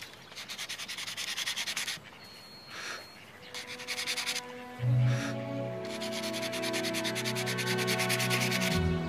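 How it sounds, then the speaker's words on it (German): Wood being sanded by hand with sandpaper, rhythmic rasping strokes in bursts that fade out midway as a music score rises and carries on to the end. "Die Stelle hier, die musst du mit der Hand schleifen."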